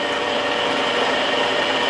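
A lathe turns a part at about 200 RPM during an outboard power tilt and trim rebuild, giving a steady, even mechanical whir with a hiss of cutting over it, with no talk.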